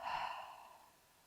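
One forceful exhale during breathwork, a brief breathy rush of air that fades over about a second, close but soft with no speech.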